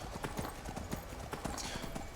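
Horse hooves in Skyrim clip-clopping at a steady gait, a quick even rhythm of soft thuds heard moderately close, with game ambience around them.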